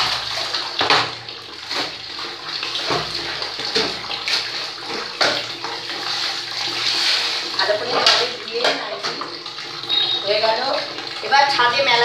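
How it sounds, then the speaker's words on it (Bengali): A hand-washed bedsheet and nightie are wrung out by hand, with water splashing and dripping into a basin in irregular gushes and sloshes throughout, close and fairly loud. "এবার নিংলে দিচ্ছি।"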